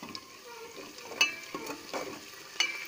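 Curry leaves and onions fry in a pan with a quiet, close sizzle, broken by a few sharp crackles and the scrape of stirring.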